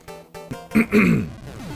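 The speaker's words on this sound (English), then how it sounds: "Excuse me, I had to clear my throat." A man clears his throat with a few short, rough bursts, close and alone, and the sound trails off at the end.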